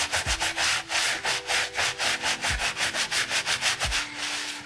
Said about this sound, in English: We'll get our brush. And give it a good rub, good scrub.